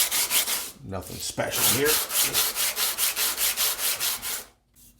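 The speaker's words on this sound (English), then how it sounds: "I'm going to start with just giving this sole a quick once over with my 100 grit on a board." The sole of an inexpensive big-box block plane is rubbed back and forth on 100-grit sandpaper mounted on a board, giving steady rhythmic scraping strokes, close and loud, after a brief spoken remark.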